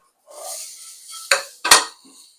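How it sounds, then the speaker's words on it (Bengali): A spatula scrapes and stirs through potato and papaya in a metal pan, with two sharp clanks against the pan's side, close and clear, no voices. "দিয়ে সামান্য নাড়াচাড়া করব"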